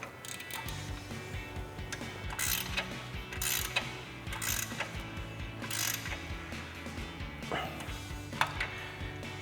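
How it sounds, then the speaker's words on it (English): A 6mm Allen head socket on a ratchet tightens the tie rod bolts of a Teraflex HD chromoly tie rod kit on a Jeep Wrangler JL, with repeated close ratcheting clicks and metal mechanism sounds throughout. "Now we're going to tighten these down once again using our 6mm Allen head socket"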